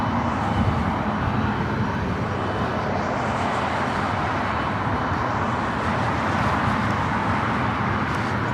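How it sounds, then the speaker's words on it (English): A Delta Airbus A321neo arriving from Orlando and landing at LAX, giving a steady broadband engine roar that stays loud and even for the whole stretch, with no voices over it. "Got that Delta A321neo coming from Orlando, Florida, up first for arrival."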